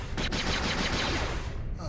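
Rapid burst-fire gunshots from a blaster in the 1997 video game Star Wars Jedi Knight: Dark Forces II, a dense continuous rattle of shots at close range filling the whole moment.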